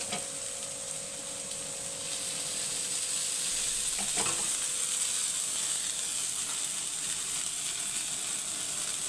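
Sweet corn pulao ingredients roasting in oil over low heat give a continuous close sizzle with a brief scrape of stirring partway through, no voices.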